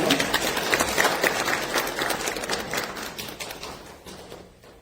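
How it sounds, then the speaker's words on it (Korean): A church congregation claps to welcome visitors at a Sunday worship service, a dense, steady applause that fills the room and slowly thins and fades toward the end. "박수로 환영하겠습니다."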